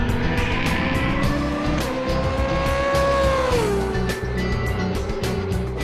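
A Ralf Schumacher-driven DTM race car roars loudly and steadily throughout, its engine note holding high then dropping as it changes pitch, with a faint squeal of tires mixed in.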